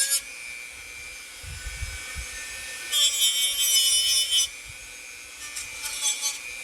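Sanding a carved wooden stump by hand: a steady rubbing scrape with a louder, harsher stretch in the middle and softer strokes around it, close and alone.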